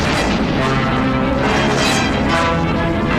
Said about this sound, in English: His trajectory was disrupted by an explosion.